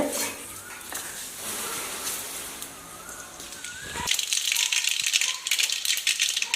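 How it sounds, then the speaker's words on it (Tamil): Mustard seeds splutter in hot oil in a pan for onion sambar, a dense crackling sizzle that turns into louder, sharper popping partway through, close and continuous. "எண்ணெய் ஊற்றி கொஞ்சம் கடுகு,"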